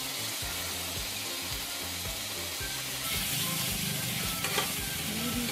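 Potatoes sautéing with spices in rice bran oil, a dense continuous sizzle close up with rhythmic scraping stirs, the frying swelling louder partway through, no talking.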